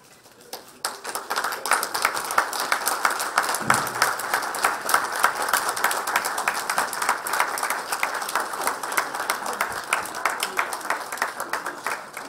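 Audience at the opening of a Marriott hotel in Georgetown applauds after a flag unveiling, a dense, sustained burst of many hands clapping that starts abruptly and carries on steadily for over ten seconds.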